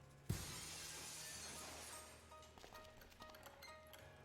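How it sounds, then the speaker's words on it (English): Glass shatters in the video game Dead Synchronicity, one sharp loud crash followed by a long bright spray of tinkling shards and scattered debris settling over several seconds. "let's cross our fingers that the seat cover absorbs the noise of the breaking glass."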